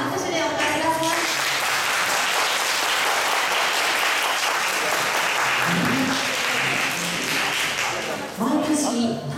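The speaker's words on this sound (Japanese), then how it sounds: "皆様拍手でお迎えください。" Applause greets a speaker stepping up at a wedding reception, a dense sustained clapping from a large seated crowd that fills the whole stretch at steady volume, with a few voices audible faintly underneath near the end.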